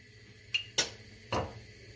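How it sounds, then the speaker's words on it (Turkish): A metal lid clanks down onto a frying pan of haddock, with a few sharp clinks in quick succession before it settles, close and fairly loud against a quiet kitchen. "Ve tavamızın kapağını kapatıyoruz."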